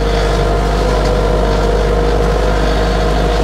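An Arbos 3055 tractor engine runs in a wet, muddy spring field, a loud, close, steady drone that holds constant with no pauses.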